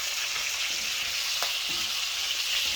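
Chicken thighs browning in a pan, a steady loud sizzle of frying with a brief stir or scrape partway through, no talking.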